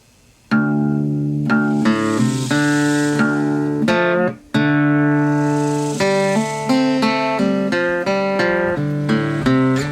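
Guitar in drop D tuning repeating a riff over and over, plucked notes and chords sounding in a steady looping phrase, clear and close with no talking.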